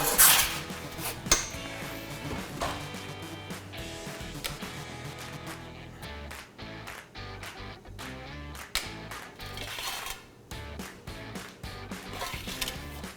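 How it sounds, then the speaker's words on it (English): A metal pizza peel scrapes and clatters against a pizza stone in a home oven, a run of close metallic knocks and scrapes over a steady background hum, with no talking. "Now I'm gonna scoop the pizza out with my metal peel."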